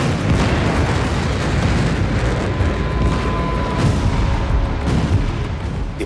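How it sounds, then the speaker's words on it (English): Dense, rumbling roar with heavy low booms rolling through, continuous and loud, like distant explosions echoing across open ground, at the Srinagar airbase during a Pakistani Air Force attack in the 1971 Indo-Pak War. "the sound of explosions suddenly echoed through the airbase in Srinagar"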